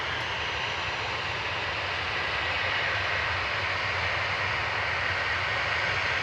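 A Jet2 Boeing 737-800 lines up at Manchester Airport, its engines giving a loud, steady broadband roar that holds without a break throughout.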